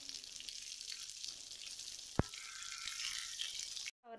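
Stuffed brinjal frying gently in oil, a soft, even sizzle with one sharp tap of a utensil midway and a brief cut near the end.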